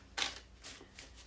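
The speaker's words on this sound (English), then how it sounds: "you saw me shuffle." Tarot cards shuffled by hand in a few quick riffling bursts, the first loudest, then two softer rustles, close and quiet with no talking.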